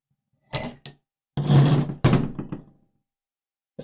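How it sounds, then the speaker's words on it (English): The bolt tank sliding out of a Daytona Gun SCAR H bolt, heard as a few close metallic clicks followed by a longer scraping slide and a final clack, quiet between sounds, with no talking. "Now the actual bolt tank will slide out."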